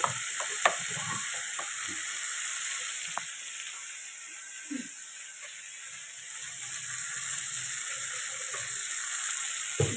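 Spice paste for rohu fish jhal sizzles in hot oil, a steady bright frying hiss with scattered clinks and stirring knocks from the pan, fairly faint throughout.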